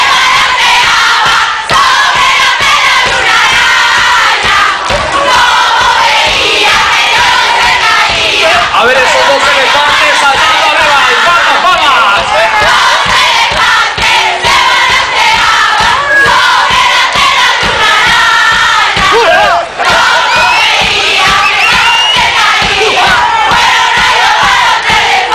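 A large crowd of children at a live orchestra show shouts together, imitating an elephant in a loud, sustained roar that stays dense and continuous throughout.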